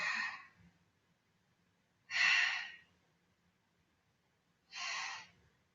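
Three strong, breathy exhalations spaced about two and a half seconds apart, close and clear with near silence between, from a person breathing through a Pilates exercise.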